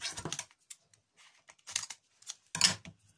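Quiet snipping of small scissors in irregular bursts, several crisp cuts close by with pauses between them.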